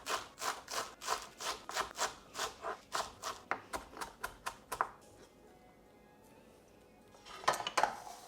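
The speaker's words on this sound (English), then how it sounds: "So I have got here a handful of fresh coriander and a spicy, lovely chili. I'm going to finely chop both of these." Knife chopping fresh coriander and chili on a board, a steady run of quick close taps for about five seconds, then a pause and a short final burst of cuts.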